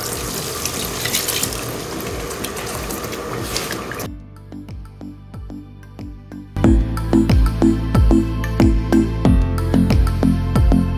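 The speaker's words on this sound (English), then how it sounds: "I'm adding some more water to it to boil." Tap water runs loudly into a stock pot during bulk cooking of a Nigerian family meal, a steady hissing gush that briefly drops to a quieter trickle before surging back full and close with splashy pulses.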